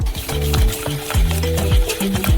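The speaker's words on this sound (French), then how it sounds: "On ajoute du sucre et on mélange." Melon syrup with sugar is stirred in a saucepan, with close scraping and clinking strokes in an irregular rhythm against a low sizzle.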